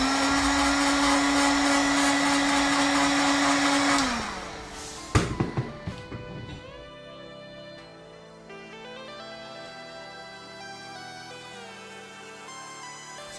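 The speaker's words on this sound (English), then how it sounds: "And with the heat gun now plugged in" A handheld heat gun whirs with a steady, fairly loud motor whine for about four seconds before winding down, followed by a few clattering knocks and quieter background music.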